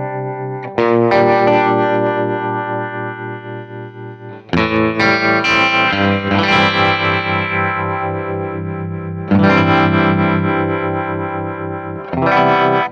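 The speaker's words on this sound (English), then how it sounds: "Hear that filter sweep with the blend knob" Guitar through a Wampler Terraform modulation pedal set to a filter-sweep effect, with loud sustained chords that swell and shift in tone and are re-struck about every four seconds, and no talking.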